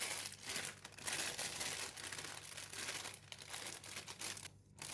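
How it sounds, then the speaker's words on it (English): Plastic bag crinkling in the hand while shaping tamarind paste into round portions, soft irregular rustles and crackles in quick bursts, faint and close with no talk. "I have a plastic bag here, or a plastic glove works as well."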